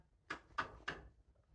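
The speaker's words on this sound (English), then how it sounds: "There's a knocking coming from somewhere." Three sharp, evenly spaced knocks from inside a bag, close and distinct, each a hollow rap about a third of a second apart, with quiet room tone between and no talking.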